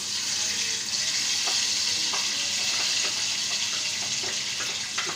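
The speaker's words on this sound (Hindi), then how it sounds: "प्याज डाल के इसको अच्छी तरह गोल्डन ब्राउन करेंगे।" Chopped onions fry in oil toward golden brown in a home kitchen. A continuous hissing sizzle runs close and even, with occasional light taps of a spatula and no speech.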